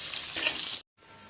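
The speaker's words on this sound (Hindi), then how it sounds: "जीरा फुटीगला एवं काटी पियाज तीनटा काटिक रखी" Cumin seeds spluttering and chopped onions frying in hot oil for ghuguni, a steady hissing sizzle that cuts out briefly, then returns softer.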